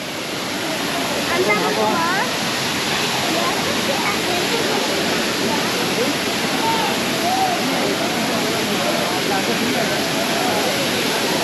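The Five Falls waterfall at Courtallam in Tenkasi, a steady loud roar of cascading water close by, unbroken throughout, with faint voices barely showing under the rush.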